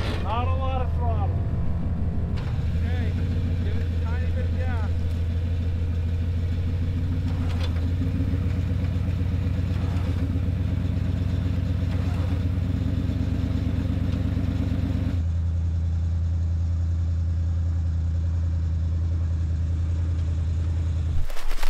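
An engine runs in reverse at low throttle, giving a steady, close low rumble with a throbbing tone that shifts and settles noticeably toward the end.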